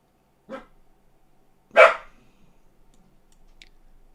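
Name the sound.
dog Max barking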